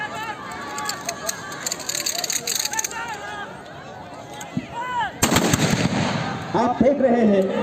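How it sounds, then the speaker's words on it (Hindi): Riot-drill police rifle party fires plastic pellets over a crowd at a training centre: loud, sharp shots burst out amid crowd noise and shouting voices, with a heavy volley near the end. "आप देख रहे हैं राइफल पार्टी द्वारा मजमे के ऊपर प्लास्टिक पैलेट फायर किया गया।"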